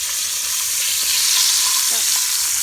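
A rabbit leg frying on a stove: a loud, dense, steady sizzle of hot oil fills the whole moment as the leg is flipped in the pan, close up.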